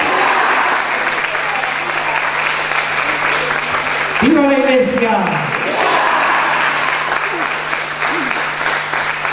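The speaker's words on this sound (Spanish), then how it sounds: "Un fuerte aplauso." Audience at a Catholic devotees' gathering of the Divine Mercy in Cerrito breaks into loud, sustained applause and cheering, steady throughout, with someone shouting over the crowd through a loudspeaker.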